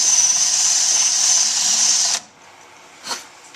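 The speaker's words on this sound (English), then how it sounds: "I'm going to drill a little bit of a divot for it to rest in." A drill whines steadily at high pitch for about two seconds while drilling a divot in a metal bracket, then stops abruptly, followed by a brief second short burst.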